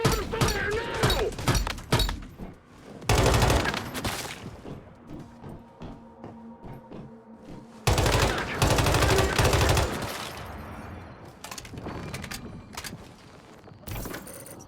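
Gunfire in the video game Once Human: two loud bursts of rapid, rattling shots, one early and a longer one later, separated by quieter mechanical clatter and ringing tones.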